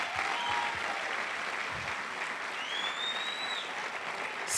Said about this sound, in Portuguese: Os filhos aplaudem aí, ó.